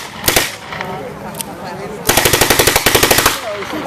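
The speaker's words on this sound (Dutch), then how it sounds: "Die heeft geschoten met de Thompson, dus die gaat ons laten zien hoe het echt moet." Thompson submachine gun fired at a Liberation Day event in Wageningen: a brief opening burst, then a long rapid string of close, loud cracks from about two seconds in, with crowd chatter underneath.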